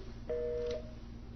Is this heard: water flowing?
no